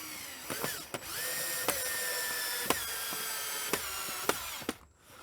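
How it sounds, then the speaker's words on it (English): A portable power drill whirs steadily at close range, its motor pitch shifting as it bites into wood, with a few sharp clicks and a brief stop near the end. "I'm going to drill right into it with my portable drill"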